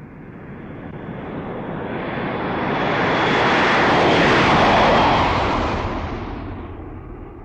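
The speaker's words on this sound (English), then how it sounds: "Listen, this is a plane." A fixed-wing airplane passes overhead with a broad roaring engine noise that swells gradually to a loud peak and then fades as it moves away.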